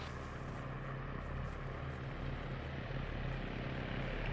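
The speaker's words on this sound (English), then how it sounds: "Yeah, those are friendly helicopters." Friendly helicopters flying in a military video game, heard as a steady, continuous rotor and engine drone at moderate loudness with a low hum throughout, with no talk over it.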